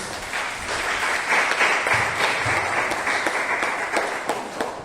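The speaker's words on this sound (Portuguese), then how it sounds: "Palmas que exaltam Jesus" A church congregation at a Portuguese-language evangelical service claps in praise, a dense, steady wash of hand claps that fills the whole stretch without pause, with no clear voices on top.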